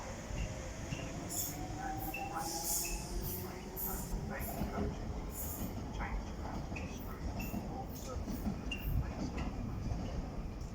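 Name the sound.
DLR train departing Greenwich station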